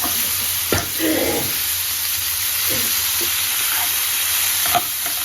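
Paneer and peas fry in a spiced pan with a steady, close sizzle, punctuated by a few sharp clacks and scrapes of stirring.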